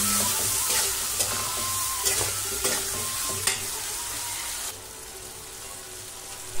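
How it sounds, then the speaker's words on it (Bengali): Prawns and spices stir-fry in a pan with a bright, continuous sizzle and periodic scraping clicks of a utensil, the hiss easing off partway through. "চিংড়ি মাছগুলিকে আর মশলাগুলিকে ভালোভাবে একটু নেড়ে চেড়ে কষিয়ে নিয়ে"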